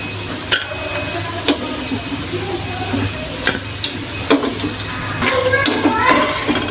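Radish pakora fritters fry in hot oil with a steady low sizzle, broken by sharp clicks and scrapes of a utensil against the pan, close and fairly loud, with light talk in between.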